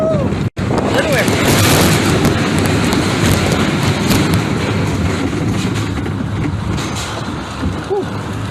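A Dahlonega Mine Train roller coaster at Six Flags Over Georgia rumbles and rattles along its track, a loud, continuous roar with wind buffeting and occasional riders' shouts over the ride.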